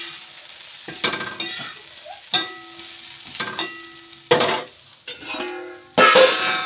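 Green chillies fry in a pan at home, with bursts of sizzling and crackling as they are stirred, spoon scrapes and clinks against the pan in a stop-start rhythm, close and moderately loud, without talk.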